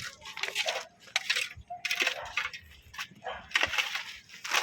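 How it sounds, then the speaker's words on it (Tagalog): Metal pickaxe striking rocky soil in a foundation excavation pit, repeated sharp clinking and crunching impacts at an irregular pace, close and without talk. "So kaya ang ginagamit namin dito, gumagamit kami ng piko."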